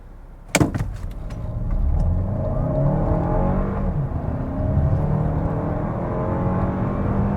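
A 2023 Toyota Crown Hybrid Max launching hard from a standstill: a sharp thump, then a rising whir of motor and engine that builds and holds as the car pulls away, heard from inside the cabin.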